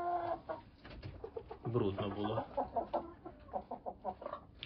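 Roosters and young chickens cluck in a backyard coop, a close cluster of calls with someone talking over them throughout.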